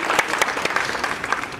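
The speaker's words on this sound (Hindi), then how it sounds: "जोरदार तालियां, तालियों की गूंज" Brief burst of crowd clapping at a movie motion poster launch event, a dense, steady patter with sharp individual claps standing out.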